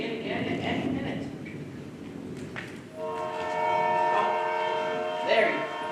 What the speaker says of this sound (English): there you can hear the 5:45 train for Boston